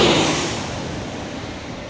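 A United Airlines airliner lands at San Diego airport, its broad roaring rush loudest at the start and then fading into a steady, diminishing whoosh, with no talking.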